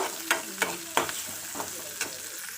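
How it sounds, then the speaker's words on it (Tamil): Small onions sauté in a pan for a spicy potato masala, a soft sizzle under occasional spoon scrapes and stirring clicks that come in a loose, uneven rhythm. "சின்ன வெங்காயம் போட்டு நல்லா வதக்கிக்கோங்க."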